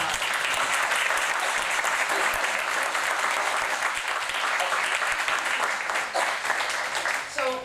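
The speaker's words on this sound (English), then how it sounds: "let's please show our appreciation to all of our finalists with a round of applause" Dense, loud audience applause for the finalists at a meeting fills the room, a continuous wash of clapping that holds steady before thinning near the end.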